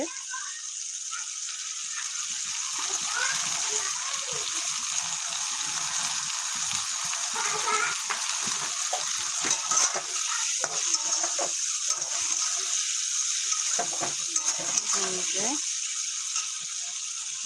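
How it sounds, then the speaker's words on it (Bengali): Dried fish fries with tomato and chilli in a pan, a constant close sizzle with scattered rattling crackles, while a voice talks over much of it. "আরেকটু ভালো করে এটাকে ভেজে নিতে হবে এখনও কিন্তু ভাজা হচ্ছে"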